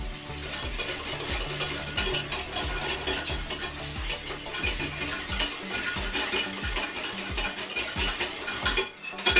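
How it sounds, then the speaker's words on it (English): Keto hot chocolate with vanilla being whisked, a rapid rhythmic clinking and scraping of a whisk against the pot that runs steadily and close, breaking off briefly near the end. "then whisk that together again"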